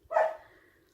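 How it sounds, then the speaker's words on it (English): A single short, sharp bark from a large seven-month-old puppy weighing 78 pounds, fairly close and clear, tailing off quickly into quiet room tone. "Puppy may start barking."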